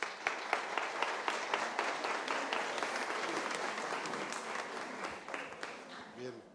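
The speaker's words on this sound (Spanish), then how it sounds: "Un fuerte aplauso para él." Audience applause at an institutional talk on staff management, sustained clapping with sharp individual claps standing out early, gradually thinning and fading toward the end, while a voice faintly begins under it.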